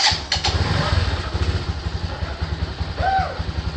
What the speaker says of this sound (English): So after that, you start the motorcycle